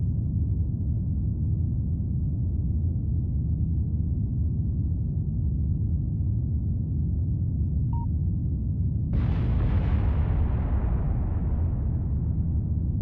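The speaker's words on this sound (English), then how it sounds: "And there are the planned explosions" Planned stage explosions go off during a large rocket launch to Duna in Kerbal Space Program. A low, steady rocket roar runs throughout, then one sudden bright burst hits partway through and tails off into hiss.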